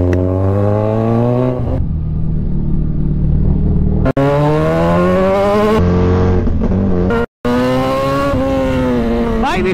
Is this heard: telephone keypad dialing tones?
no